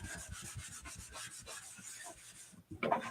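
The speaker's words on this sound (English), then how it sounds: "I'm just buffing it with the microfiber side" A microfiber cloth buffs the painted surface of a 14-inch wood round, making a soft, continuous rubbing swish in quick back-and-forth strokes up close, ending in a slightly louder scuff.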